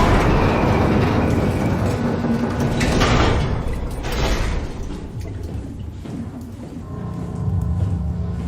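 Heavy sliding door in an abandoned underwater research facility opening in a video game after an omni-tool is held up, a loud mechanical rumble and grinding slide with clanks, settling into a lower hum.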